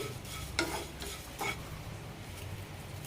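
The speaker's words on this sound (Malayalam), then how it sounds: "മൂന്നാല് മിനിറ്റ് നന്നായി വറുത്തെടുക്കാം ലോ ഫ്ലെയിമിലിട്ട് തന്നെ വറുത്തെടുക്കണം" Jackfruit seed mixture dry-roasted in a pan on a low flame, a spoon scraping and stirring with a couple of sharper scrapes over a faint dry rustle.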